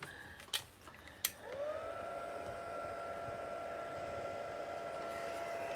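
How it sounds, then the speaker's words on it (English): A heat gun on its lowest setting blows steadily over wet watercolour paint, a smooth whirring hiss with a faint tonal whine that holds level after two brief clicks at the start. "Now I'm going to give it a bit of a dry with my heat gun on setting 1."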